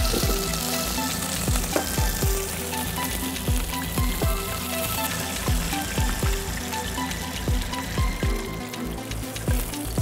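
Chicken frying in hot oil in a home kitchen while sauce masala is prepared, with a loud, steady sizzle and crackle and repeated sharp spatula or stirring clicks throughout, no voices.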